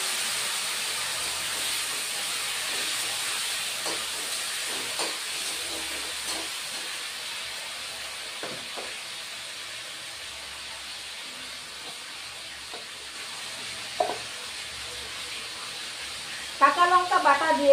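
Potato and sweet pumpkin hiss and sizzle in a pan for a vegetarian dish with yardlong beans, a steady broad frying hiss with faint scattered ticks and a few louder clinks near the end.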